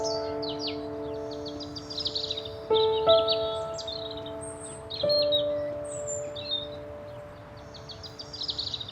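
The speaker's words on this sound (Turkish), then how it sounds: "Şu kuşları görüyor musun? Kızıl gerdan onlar." Several European robins chirp and squabble in a burst of high, quick twittering calls, some close and some farther off, over a faint steady hum, with brief louder flurries partway through.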